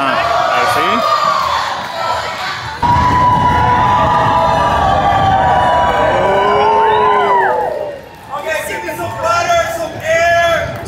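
A crowd cheers, whoops and shouts backstage before a Mardi Gras float ride at Universal Studios, with loud excited voices overlapping and people talking throughout.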